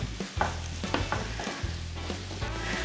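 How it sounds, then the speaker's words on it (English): Onions sizzle and crackle steadily in olive oil in a hot pan, with a few stirring clinks and scrapes breaking through the frying hiss. "Delicious sizzling sounds."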